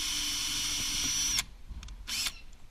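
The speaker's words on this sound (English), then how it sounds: "No reason to over drill." A power drill whines steadily at high speed as it bores into a Pelican Argo 100 kayak hull, then stops abruptly, followed by a brief second burst.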